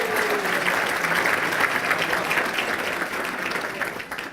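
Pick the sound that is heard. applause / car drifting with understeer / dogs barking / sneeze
applause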